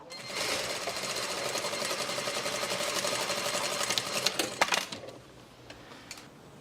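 A sewing machine runs a strap seam in one steady burst, close and fairly loud, folded fabric stitched down on a half-inch seam allowance, slowing near the end before a few light clicks and quieter handling follow.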